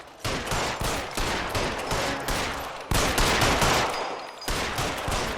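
Sustained bursts of rapid gunfire in L.A. Noire, loud cracking shots fired in quick succession across two long volleys with a brief break between them, no talking.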